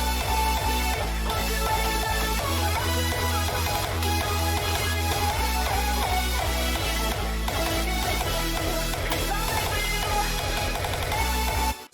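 A hardstyle remix drop pounds along with punchy raw distorted kicks under a layered lead and sustained chords, dense and loud without a break until it cuts off abruptly near the end.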